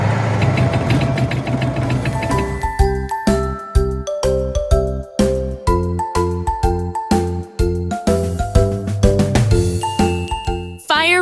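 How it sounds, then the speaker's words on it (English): A toy fire rescue bucket truck starts with a burst of electronic engine rumble, then plays a loud, repetitive, tinny siren-like jingle in bouncing stepped tones that ends abruptly. "Fire rescue bucket truck."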